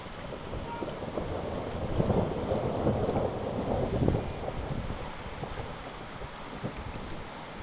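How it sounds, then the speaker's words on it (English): Thunder rumbles low and rolling over the New Forest, swelling twice before fading into a steady background of rain and wind. "you know where that thunder came from?"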